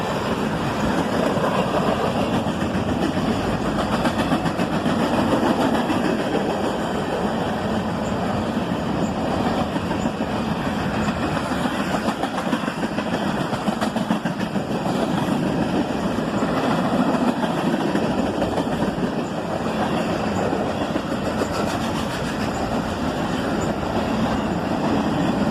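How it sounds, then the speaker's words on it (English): Manifest freight train led by a single ES-44 ACH locomotive, passing close with a steady, loud roll of wheels on rails, clanking cars and faint wheel squeal throughout. "Just a single locomotive on this manifest train, an ES-44 ACH."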